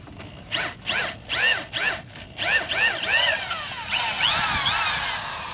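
A core drill bites into a Toyota engine block in repeated bursts for a head bolt thread repair, its pitch rising and falling with each push, then grinds more continuously toward the end.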